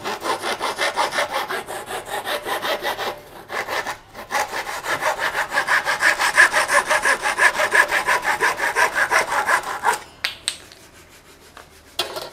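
A handsaw cuts wood clamped on a workbench with a steady, rapid rasp of back-and-forth strokes, close and clear, pausing briefly before ending after about ten seconds.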